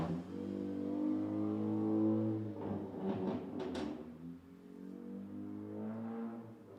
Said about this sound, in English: the motorcycle's throwing me off